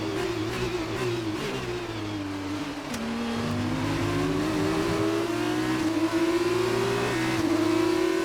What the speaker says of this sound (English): just changing up gears like a Sunday drive